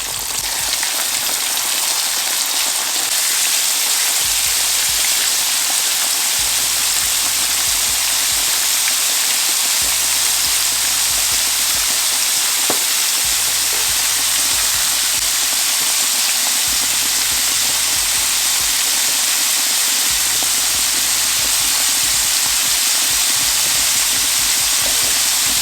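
Turkey chops fry in corn oil with a steady, dense sizzle and hiss close by, running unbroken for about half a minute beneath a faint low rhythmic hum.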